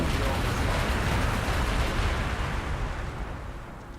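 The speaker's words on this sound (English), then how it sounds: "Thunderfire Cannon, go!" Heavy artillery-style blast from a Thunderfire Cannon in the Warhammer 40K Gladius strategy game, a loud rumbling, dense burst that sustains and slowly fades over several seconds.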